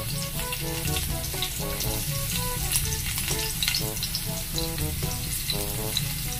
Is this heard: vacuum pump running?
no